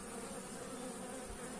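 Honeybees in an apiary hive make a steady, dense buzzing drone, close and continuous with no voices over it.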